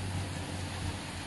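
Rain falls steadily outdoors during a typhoon, a constant soft hiss with low rumble and no other distinct sounds.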